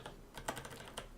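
Quiet keystrokes patter on a computer keyboard in a short run of irregular taps while code is being written.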